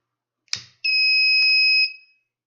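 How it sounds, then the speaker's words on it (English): A loud electronic tone from an Arduino-built fire alarm sounds steadily for about a second after a brief click, then cuts off; no talking. "See, it works, and that is our fire alarm."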